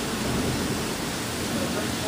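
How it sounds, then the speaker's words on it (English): Heavy rain pours down during a flash flood that turns a backyard into a lake and sends water streaming down a driveway, a steady dense roar close by with no breaks. "That is a lot of rain in a little while."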